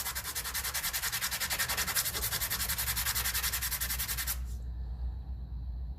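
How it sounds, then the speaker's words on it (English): Metal electrical contacts on a 1954 Ferguson TEF diesel tractor being sanded by hand, fast rhythmic rasping strokes, close and loud, ending abruptly with a fainter hiss after. "everything that you expect power to go through, just give it a quick sand"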